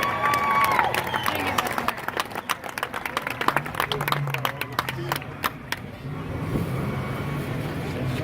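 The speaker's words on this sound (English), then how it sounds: "Big round of applause for Mr." An audience at a Bandit Run 2017 gathering at Atlanta Motor Speedway claps for Eddie Fernandez, with scattered distinct claps and a crowd murmur that thins out toward the end, mixed with voices.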